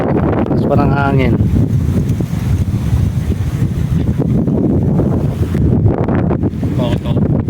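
Wind blasts steadily across a microphone on a dike where people fish for tilapia, a loud sustained rumble with voices talking over it at the start and end.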